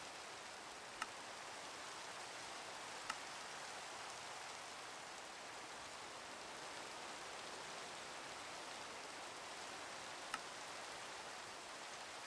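Steady rainfall in the Minecraft video game, a soft, even hiss that holds for the whole stretch, broken only by a few faint clicks.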